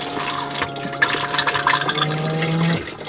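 A Thetford C262 caravan toilet's replacement flush pump runs water into the bowl, a steady gushing and trickling with a low pump hum that shifts pitch before cutting off near the end.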